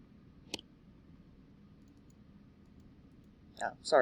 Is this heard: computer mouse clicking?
yes